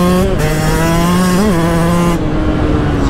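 A 2022 Yamaha 125 YZ two-stroke motocross bike revs hard and close, its loud buzzing engine note holding steady, blipping up briefly, then settling.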